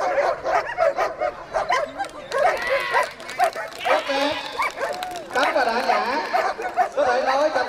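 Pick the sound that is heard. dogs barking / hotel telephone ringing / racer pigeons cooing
dogs barking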